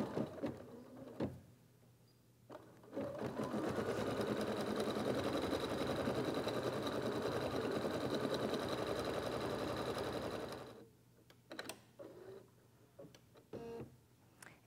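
An embroidery machine stitches a placement line on stabilizer for an in-the-hoop felt egg holder. The rapid, steady mechanical whirring runs for about eight seconds, close and fairly quiet, with faint clicks before and after. No talking.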